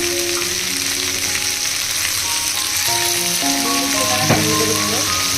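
Shukto vegetables frying and being stirred in a pan with turmeric powder, giving a steady close sizzle with scraping stir strokes and a clatter near the end, no talking.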